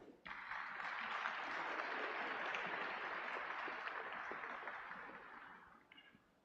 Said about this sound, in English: So graduates, I ask you to give a round of applause in recognition of their